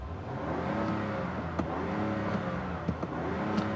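A smooth 2025 Ram 1500 Rebel pickup's Hurricane straight-six engine idles and runs steadily with a low, even hum, a few faint clicks and bumps over the top, no talking.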